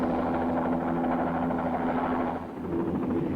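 A helicopter lifting off, its steady rotor and engine drone loud and continuous, briefly dipping before resuming, with no voices.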